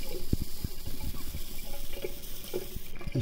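Water runs from a tap over a small internal tank filter from a Shark S6005 steam cleaner as it is rinsed clean, a steady close splashing wash with a few brief louder spatters.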